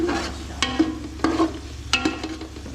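Tomatoes frying in masala for achar gosht in a pan, with a low steady sizzle under a handful of sharp, close spoon scrapes and clatters against the pan, with no talking.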